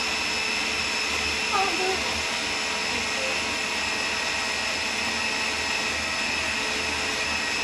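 A food processor blending frozen raspberries whirs loudly and continuously, a steady grinding motor drone that fills the whole stretch.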